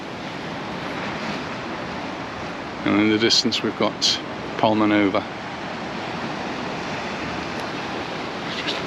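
Surf washes steadily onto a beach at Portals Nous, Mallorca, a continuous wash of breaking waves with some wind, while someone briefly talks over it midway.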